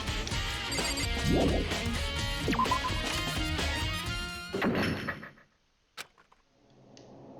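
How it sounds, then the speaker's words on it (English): A door locking by itself with a single sharp click, heard alone in near silence after loud, busy game sounds cut off, followed by a faint low rumble. "The door just locked on its own."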